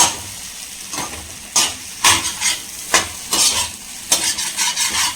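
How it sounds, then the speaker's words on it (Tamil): Beetroot and carrot stir-fry tossed in a hot kadai, with loud, close scraping strokes of a spatula repeating in quick bursts over a constant sizzle, and no one speaking. "ஒரு ரெண்டு நிமிஷம் இந்த மாதிரி நம்ம மிக்ஸ் பண்ணிகிட்டே இருக்கலாம்"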